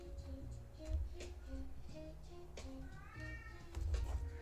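A pet cat meowing a few times quietly in a room over soft background music.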